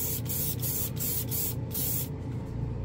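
BEHR spray paint hissing steadily from an aerosol can onto plastic, a continuous close spray broken by several brief pauses as the nozzle is released and pressed again.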